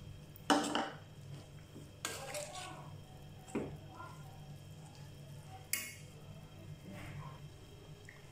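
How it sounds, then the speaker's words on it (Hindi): A spoon stirs sabudana khichdi with crushed peanuts in a pan, making a few scattered scraping clinks against a low steady background hum. "इसे अच्छे से वापस मिक्स कर लेंगे।"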